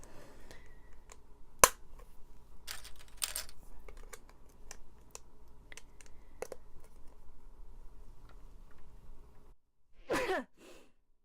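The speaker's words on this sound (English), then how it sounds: "sneeze" Steady keyboard typing clicks along, then stops, and a single sharp sneeze bursts out close by near the end.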